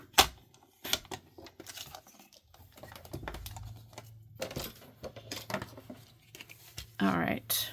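Paper strip is trimmed to width for a handmade craft tag, with quiet scraping and clicking cuts heard under a person talking throughout.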